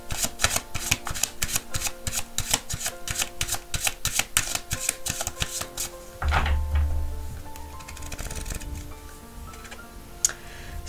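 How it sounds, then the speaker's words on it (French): Oracle cards being shuffled in the hands, a rapid run of crisp riffling flicks for about six seconds, followed by softer sliding and a card drawn and laid down, close and clear. "je vais vous tirer une deuxième carte."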